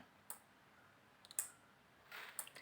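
A solenoid door lock driven by a Raspberry Pi gives a few short, sharp clicks spaced over a couple of seconds, faint and close, in a quiet room with no talking.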